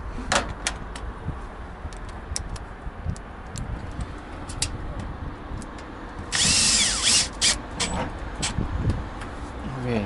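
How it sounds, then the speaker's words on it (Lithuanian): A power drill drives new screws into a roof during a leak-sealing repair, giving one clear burst of motor whine partway through. Scattered clicks and tapping come before it, and someone talks nearby. "Taip, dabar belieka užsukti, prisukti varžtus."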